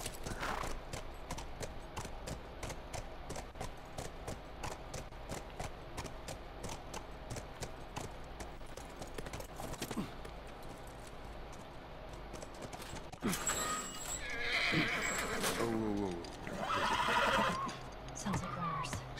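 Rapid hoof clip-clops run steadily throughout, followed near the end by a couple of loud horse whinnies in The Last of Us; game-like sound with faint background noise.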